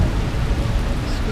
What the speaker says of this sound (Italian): È un'ora che piove così.